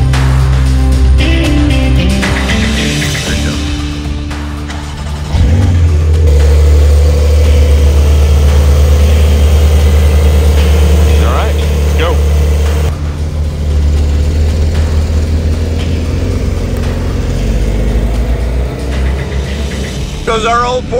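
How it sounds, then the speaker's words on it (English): An old Porsche 911 engine runs loudly and close, rumbling steadily and rising as the car pulls away, with people talking over it. "Goes our old Porsche."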